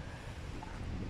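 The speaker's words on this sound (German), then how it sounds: "der Wind ist abartig." Strong wind buffets the microphone, producing a dense, roaring rumble that stays loud and unbroken for the whole second.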